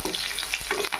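Chopped onion and slit green chilies fry in hot oil in a pan, giving a loud, close, continuous sizzle broken by scraping stir strokes.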